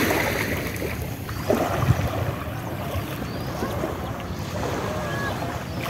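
Speedboat out on the sea off Patenga beach, a steady engine drone mixed with wind buffeting the microphone and water rushing past the hull, continuous and fairly close.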